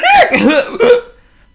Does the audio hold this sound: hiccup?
yes